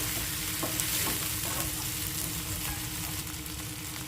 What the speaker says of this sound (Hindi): अब टमाटर को भी हम लगातार चलाते हुए भूनेंगे।